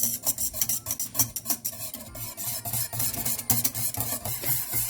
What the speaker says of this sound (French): on doit continuer à mélanger sans arrêter